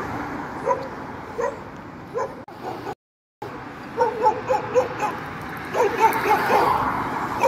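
A street dog barks repeatedly at a passerby walking along Street 9 in Mokattam, with sharp yips and bow-wows coming in bursts over outdoor street noise, a brief dropout partway through.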